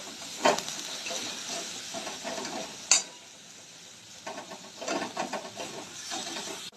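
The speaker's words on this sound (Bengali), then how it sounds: "বেসনটা ভালো করে নাড়তে হবে যাতে কাঁচা গন্ধটা না থাকে।" A spoon stirs gram flour with capsicum in a hot pan, making intermittent scraping knocks over a soft background sizzle, with a couple of sharper clacks and a quieter pause partway through.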